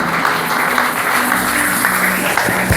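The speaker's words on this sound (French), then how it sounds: "Est-ce qu'on peut acclamer très fort le Seigneur pour sa parole?" Church congregation applauding together, a steady dense wash of clapping that holds at an even level throughout, with faint voices mixed in beneath.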